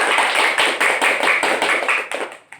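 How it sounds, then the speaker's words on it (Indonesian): A class of elementary school children clapping together in a classroom, a dense burst of many hands lasting a couple of seconds and fading out at the end, with no talking. "Tepuk tangan untuk kalian semua."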